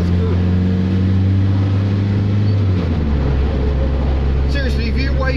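An LDV Pilot van engine drones loudly from inside the cab as it pulls through the gears, the steady hum shifting pitch partway through, with someone talking over it.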